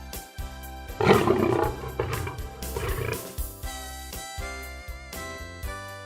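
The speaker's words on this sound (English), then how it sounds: "A lion lives in a den." A lion roars in a series of deep, rumbling calls, loud and close, that swell and fade in uneven bursts with short gaps between.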